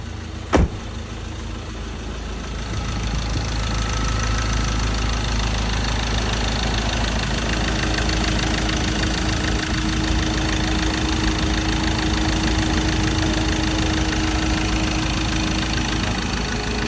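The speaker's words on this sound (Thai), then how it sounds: "มาฟังเสียงเครื่องยนต์กันนะครับ" A short click, then the 2.2-litre diesel engine of a 2017 Ford Ranger XL pickup starts and settles into a steady, rumbling idle with a faint rhythmic knock, close and continuous.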